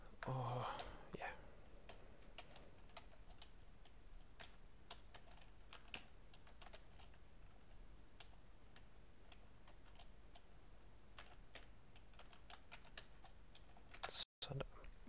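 Computer keyboard typing a value into a maths notebook, scattered light key clicks tapping irregularly across about fifteen seconds, close but quiet, with someone speaking softly at the start.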